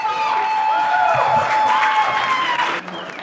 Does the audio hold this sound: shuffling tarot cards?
no